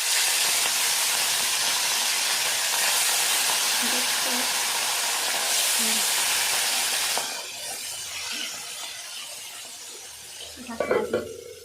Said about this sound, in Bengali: দেখি তেল গরম হয়ে এসছে প্রায়, আর মাছগুলো একটা করে ছেড়ে দিই।